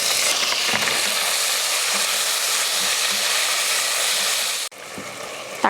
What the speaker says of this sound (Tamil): 2 பச்சை மிளகாய். இதை வதக்கிடலாம்.